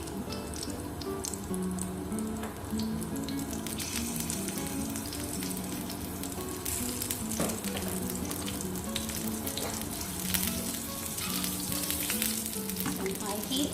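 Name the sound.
green chilies frying in oil for red lentil dal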